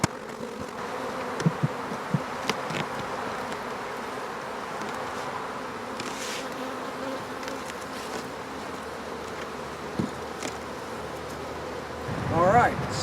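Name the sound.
honeybees buzzing at hives during spring hive inspection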